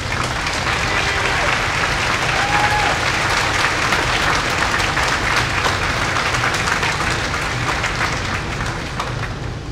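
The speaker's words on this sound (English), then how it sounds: "give them a round of applause" A large graduation crowd at a high school ceremony applauds the educators, dense continuous clapping held at a strong, even level for nearly ten seconds before easing off at the end.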